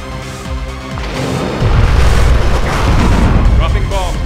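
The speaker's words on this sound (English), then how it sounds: "Dropping bomb." A napalm bomb detonating in the video game C&C Twisted Insurrection, a deep rumbling boom that swells and roars on for several seconds, with voices and unit chatter mixed in.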